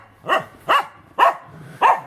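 Dogs belonging to refugees leaving a house in Dobrianka bark four times in an even rhythm, sharp and fairly close, with quiet gaps between each bark.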